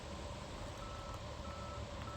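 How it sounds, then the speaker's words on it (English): A Tesla park assist proximity warning sends out a steady high-pitched tone, faint and continuous, inside the car with no talking. "It keeps beeping the high-pitched beep like I've run into you."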